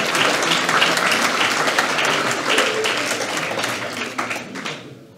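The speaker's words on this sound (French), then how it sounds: "Et vous pouvez les applaudir" An audience at a municipal New Year's greetings ceremony in Cocumont claps loudly for the town council team, dense sustained applause that thins and fades out at the end.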